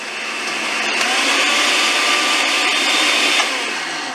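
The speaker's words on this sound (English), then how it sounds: "I really don't like this blender." A blender roars continuously at close range, a loud, even motor whine that holds steady for about four seconds.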